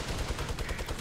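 Rapid gunfire in the Fortnite battle royale game crackles in quick repeated bursts, a dense, steady rattle of shots running through the whole second with no voices over it.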